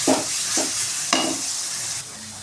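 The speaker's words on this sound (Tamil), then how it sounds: "இஞ்சி பூண்டு பேஸ்ட்டு போட்டு நல்லா வதக்கலாம்." Ginger garlic paste frying in a pan as chana masala is cooked, with a steady close sizzle broken by several scraping spatula stirs near the start and no talking.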